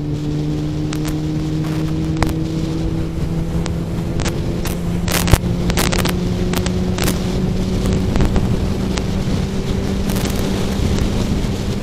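A Kawasaki motorcycle idling while warming up, a steady low engine drone with a constant hum, recorded outdoors with wind buffeting the microphone and scattered clicks on top.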